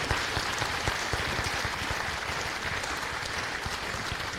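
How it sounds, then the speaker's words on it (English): A school audience at a senior award night for the class of 2025 applauds its academic honor students, with dense, steady clapping filling the room for the whole stretch, close and loud with no voices over it. "Let's give one final round of applause for all of our academic honor students in the class of 2025."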